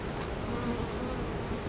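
Honeybees buzz steadily and closely around a hive feeder, a dense continuous drone with no pauses or voices.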